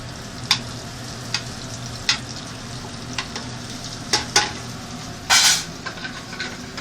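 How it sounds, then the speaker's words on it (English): Butter sizzles in a pan while Chicken Marsala is cooked. The frying hiss stays steady, with scattered utensil clicks and scrapes and one brief louder burst partway through. No one talks. "If that butter is sizzling"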